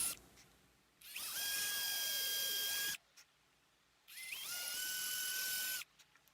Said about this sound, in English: need to drill a channel for the ground wire to the bridge